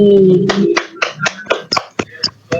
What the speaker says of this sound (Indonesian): Beri tepuk tangan untuk Panji.